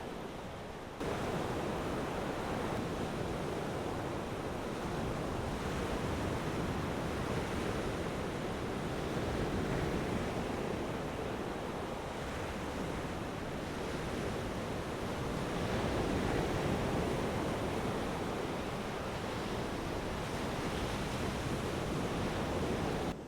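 Rough Atlantic Ocean surf pounds a beach at Singer Island in a continuous broadband roar of breaking waves, with some wind buffeting the microphone and no talking.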